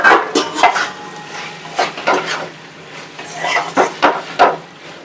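A pan lid comes off a pot of chili mushroom cooking on the stove, with clattering metal knocks and scrapes in uneven bursts across a few seconds, close and fairly loud.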